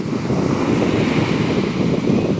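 Waves rolling on a backwater lake under steady wind, a continuous loud rush of surf and wind buffeting the microphone with no breaks.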